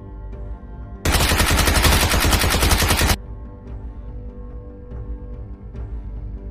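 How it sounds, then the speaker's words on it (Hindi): Rapid automatic gunfire in the video game PUBG, a loud sustained burst of shots lasting about two seconds, set against a quieter background bed of low game ambience. "तुमने राज को गोली क्यों मारा?"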